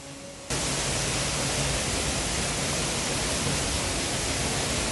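Steady, dense rush of water falling down an artificial fiberglass (FRP) waterfall in a garden, constant and fairly loud, starting abruptly after a brief quieter moment and continuing without a break.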